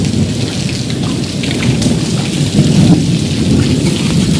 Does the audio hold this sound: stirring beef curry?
no